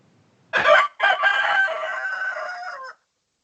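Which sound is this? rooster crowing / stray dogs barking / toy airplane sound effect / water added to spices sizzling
rooster crowing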